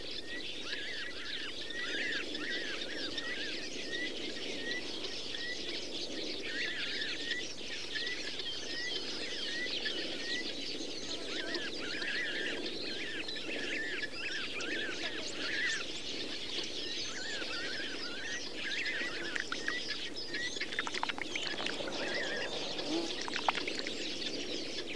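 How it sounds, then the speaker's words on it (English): Birds at an African waterhole keep up a steady wash of chirps, tweets and soft calls, a dense outdoor chorus with faint splashing, continuous and even throughout with no one talking. "The majority of birds drink and bathe in peace."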